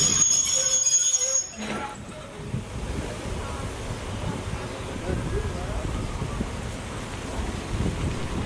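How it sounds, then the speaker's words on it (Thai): Alstom locomotive number 4225 at Pak Tho station in Thailand, rolling slowly into a siding; a loud, steady rumble with rail rattle and a brief high screech near the start, continuing throughout. "รถจักรทำการเป็นอัสตอม4225นะครับรับขบวน255นะครับตอนนี้ก็ได้เข้าเพื่อจอดในทางรีกของสถานีปาก"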